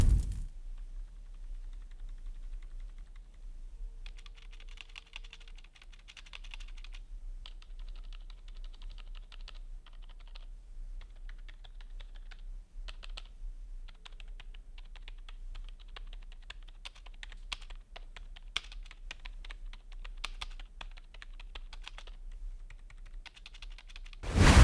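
Keys on a MEETION MT-K9320 wired gaming keyboard clack in quick bursts of typing, crisp and close, with brief pauses between runs and no voices.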